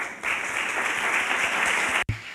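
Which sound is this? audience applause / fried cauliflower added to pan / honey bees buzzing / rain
audience applause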